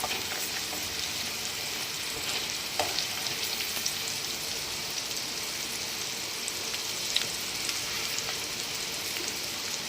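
Methi papad curry frying and being stirred in a pan, a steady soft sizzle with occasional faint scrapes and ticks, close and continuous.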